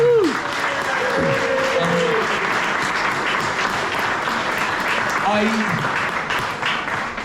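Steady applause from a crowd fills the clip, with a few scattered whistle-like tones rising over the clapping near the start and middle.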